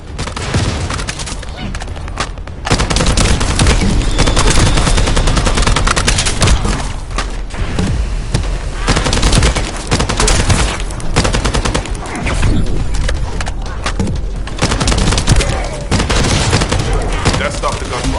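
Dense bursts of rapid gunfire crackle almost without pause, loud and close, with brief lulls between volleys in a battle in the video game The First Descendant.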